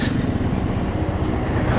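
A big lorry passing on the road beside a QJMotor AX200 scooter ride, heavy low rumble and roar close by, steady and loud through the brief moment with wind noise, no voices.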